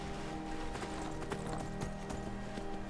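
A horse's hooves clip-clop in the video game Skyrim, a quick, regular run of soft hoofbeats played over a quiet, droning in-game music backdrop.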